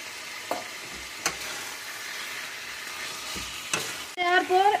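Meat fries in a pan with a soft, continuous sizzle, broken by sharp scraping strokes as it is stirred. A brief voice enters at the very end.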